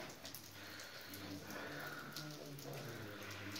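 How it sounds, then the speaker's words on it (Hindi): Heavy rain pours steadily at a Kali temple in the hills, a dense, even wash of droplets on surfaces that continues throughout with no lull, close by and moderately loud. "बारिश चल रही है बहुत तेज।"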